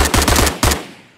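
Designed machine gun shot effect built in Krotos Weaponiser, a short burst of punchy rapid shots with deep thumping lows, a gap, then a final shot whose tail fades away.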